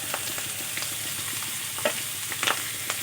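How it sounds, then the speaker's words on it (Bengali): Chopped onion frying in a pan with green beans while pasta is being made, a steady soft sizzle with a few light scrapes and clicks of stirring close by, no voices. "কিছুক্ষণ ভাজা ভাজা করে নেব।"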